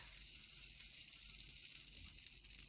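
Baghrir crepe batter sizzles as it is poured into a hot pan, making a faint, steady hiss that runs evenly throughout with no voices.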